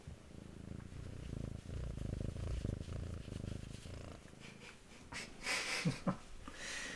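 A cat purrs loudly and steadily up close, a continuous rumbling drone with a few soft breathy snuffles near the end.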